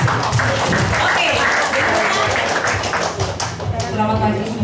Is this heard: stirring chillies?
no